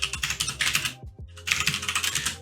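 Rapid keystrokes clatter on a computer keyboard in two bursts split by a short pause, with crisp, close clicking typed in an uneven rhythm.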